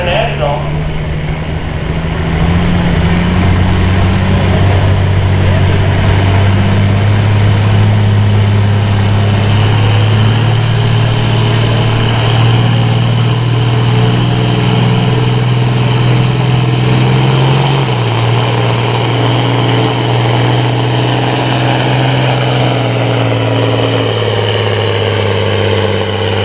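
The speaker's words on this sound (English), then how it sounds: "Driving that 1066 International." An International 1066 farm tractor engine runs loud and close at a tractor pull, a steady heavy diesel drone that builds and shifts in pitch, with a voice talking over it.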